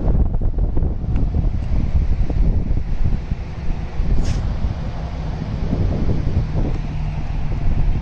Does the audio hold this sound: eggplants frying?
no